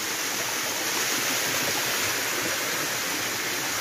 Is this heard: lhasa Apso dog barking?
no